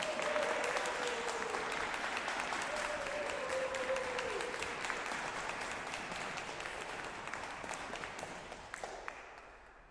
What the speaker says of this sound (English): But can I just get another round of applause for the finance team?